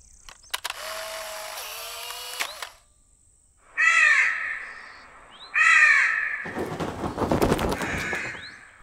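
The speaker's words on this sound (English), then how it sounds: "Fly high, Mr. Crow." A crow caws repeatedly in close, loud bursts with pauses between, followed by wing flutters and a rushing flap as it takes off; no talking.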